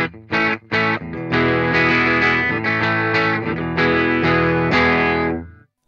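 Clean, jangly electric guitar tone: a few short strummed chords followed by sustained ringing chords, loud and close, fading out at the end.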